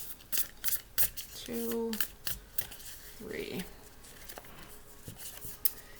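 Tarot cards shuffled by hand in a few short riffled bursts during a Virgo reading, close and crisp, with a woman counting aloud between the shuffles.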